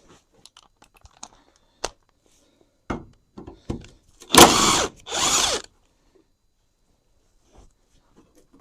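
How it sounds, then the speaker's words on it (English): Ratchet work on the bolts of an abandoned Chevy S10 under disassembly: scattered faint clicks and short metallic bursts, then a louder close clatter of ratcheting near the middle, then sparse small taps. "Where's my ratchet?"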